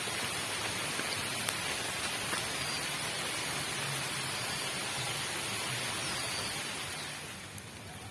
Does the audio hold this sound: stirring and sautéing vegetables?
no